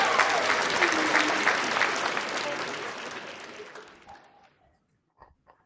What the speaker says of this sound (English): let's give him a round of applause on that one